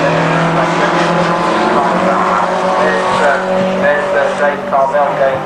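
A VW Golf race car engine at Donington Park during a 2000 VW Cup race, a steady loud engine drone with shifting harmonic tones throughout, under a commentator's continuous talk.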